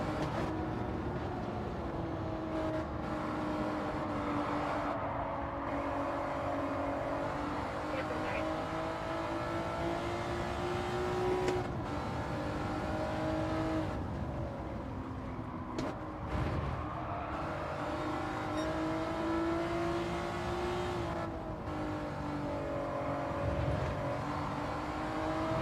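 Race car engine droning and shifting pitch through a long acceleration in a racing video game, a steady loud engine tone with rising and falling harmonics, with speech faintly present beneath.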